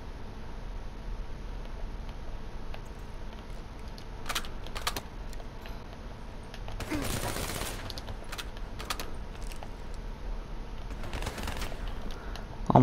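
Gunfire in Black Ops 3 arena play, with sharp bursts of rapid shots in short volleys spread through the clip and one louder, denser burst in the middle, all over a steady game background.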